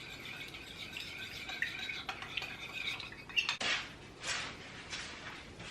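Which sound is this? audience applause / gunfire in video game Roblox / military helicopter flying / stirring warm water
stirring warm water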